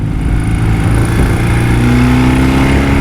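A 1979 BMW R100S motorcycle engine accelerating on a road, a loud, steady close-up drone with rising pitch as it revs, no voices.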